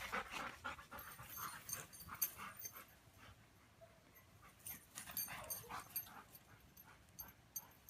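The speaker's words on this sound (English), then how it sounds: "That's Lonnie whining in the background." Dogs playing and panting at close range, with a second dog whining and whimpering in the background in short, uneven bursts, no talk.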